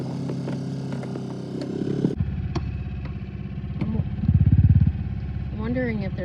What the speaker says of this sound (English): In the dinghy with our new dinghy motor because we blew out the other one.